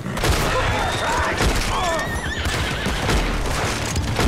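Gunfire in a Red Dead Online camp, rapid bursts of shots at mid distance mixed with horse whinnies and hoofbeats, with the outdoor game atmosphere running continuously.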